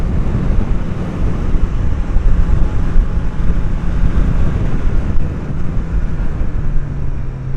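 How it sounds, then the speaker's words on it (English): A 2024 Honda CB650R motorcycle engine runs steadily on the road, a loud continuous low rumble mixed with heavy wind buffeting, with no talking. "I love the sound of the engine."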